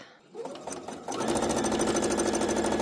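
A sewing machine quilts fabric coasters, starting with a few slow stitches before settling into a fast, even, close whirring rhythm.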